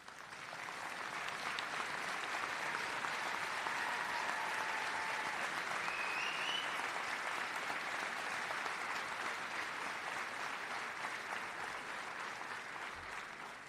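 Graduation audience at Chester High School claps for veterans standing to be recognized, a full, even wash of applause that fades in, holds steady and tapers at the end.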